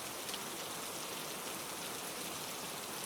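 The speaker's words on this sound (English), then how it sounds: "The rain began to shift again, tapping lightly against the glass, falling in soft streams" Steady rain patters against window glass in a soft, even wash of fine drops, continuous and fairly quiet, with no voices over it.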